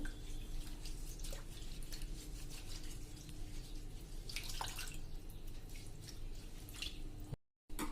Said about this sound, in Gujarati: આ રીતે હું 2 થી 3 પાણીએ ધોઈ લઉં છું